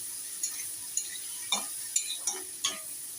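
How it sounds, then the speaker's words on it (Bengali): A spoon scrapes and stirs food frying in a pan before bombay duck is added, making six evenly spaced scraping strokes over a faint continuous sizzle, close and fairly quiet. "এবার এটা দিয়ে আমি নাড়াচাড়া করছি"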